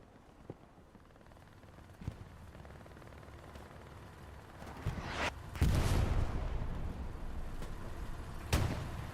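Tank guns exchanging fire in Hell Let Loose, with isolated heavy booms spaced several seconds apart and a louder, rumbling blast midway, over continuous engine and battlefield noise.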